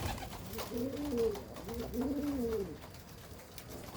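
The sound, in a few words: pigeons cooing at evening feeding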